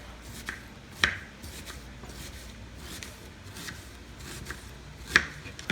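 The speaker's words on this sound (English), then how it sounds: "And we're gonna chop this up nice and small." Knife chopping half an onion into small pieces on a board: sparse, irregular taps with two sharper cuts standing out, quiet and close, no talking.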